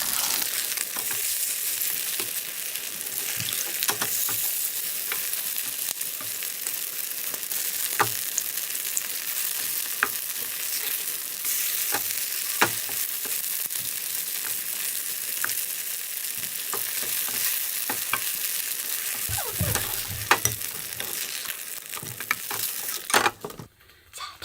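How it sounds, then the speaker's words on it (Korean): Kimchi and tofu pancakes frying in oil in a pan over high heat, a steady close sizzle with occasional clicks and scrapes of a utensil, and no talking. "그래서 저는 지금 강불에 놓고 이렇게 부치고 있어요."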